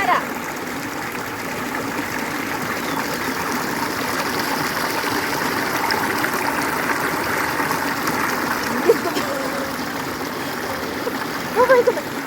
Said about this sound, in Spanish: Un ratito voy a lavar mi cara.